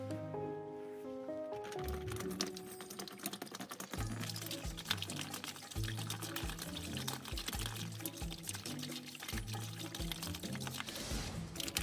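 Water from a pitcher splashes onto a small homemade water wheel built with barbecue skewers, a continuous pouring and splattering that runs for several seconds, after a brief quieter start.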